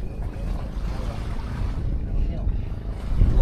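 A boat engine rumbles steadily up close as the boat reverses on the Pacific Ocean, low and throbbing, with wind buffeting the microphone and a slight rise in power near the end.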